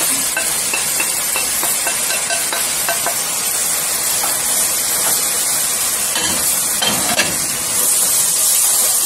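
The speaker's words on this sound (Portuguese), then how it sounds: "Agora eu vou colocar aqui o tomate e o pimentão." Tomato and bell pepper dropped into a pot of calabresa sausage, giving a steady loud sizzle and hiss with faint stirring scrapes and a few soft clunks.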